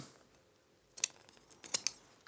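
Scissors make a few short, crisp snips through fabric while clipping a sewn corner and trimming the seam allowance on a skirt waistband, close up after a quiet start.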